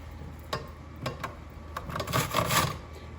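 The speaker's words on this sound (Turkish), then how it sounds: "1 adet büyük soğanı rendeliyorum" A large onion is scraped against the coarse side of a grater in a home kitchen, making close, quiet rasping strokes that start sparse and then speed up into a quicker run, with no talking.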